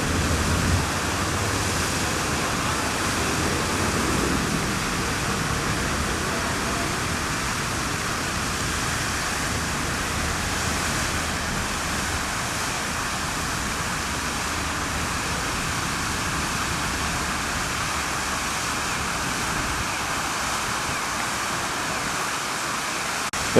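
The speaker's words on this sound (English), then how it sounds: "There the fountain cranks on almost full bore." A fountain in Japan running at almost full bore, a constant loud rush of falling water that stays even and unbroken throughout, with no voices.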